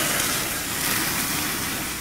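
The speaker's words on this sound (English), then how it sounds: "Sizzling steak." A steady, dense hiss and crackle of steak sizzling, loud and continuous throughout without pauses.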